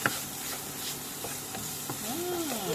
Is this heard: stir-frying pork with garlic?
yes